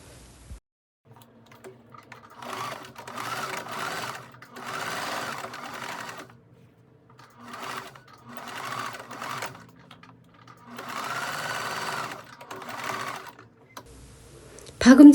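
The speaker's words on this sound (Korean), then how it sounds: "그림처럼 앞 안단과 뒤 안단의 어깨선을 박음질합니다." Sewing machine stitching the shoulder seam joining front and back facings of a linen shirt blouse, running in about five steady bursts separated by short pauses, close and clear with no talking.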